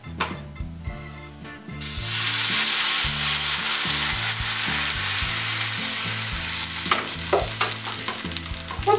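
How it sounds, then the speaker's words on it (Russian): Thin whey-batter pancakes sizzle in a hot pan, a steady loud frying hiss that swells in after a quieter start and continues with small pops and crackles throughout. "Вот посмотрите, какие на горячей сковороде получаются блины."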